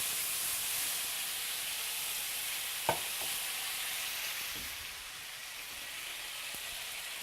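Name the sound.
pan deglazed with soy sauce and ginger mixture, sizzling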